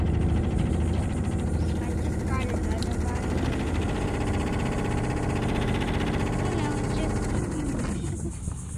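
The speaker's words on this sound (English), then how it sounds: "Okay, motor's off." Electric drive motor on a Pelican Catch PWR 100 tandem fishing kayak, running at a steady close whine with a constant hum throughout, as if out on the water.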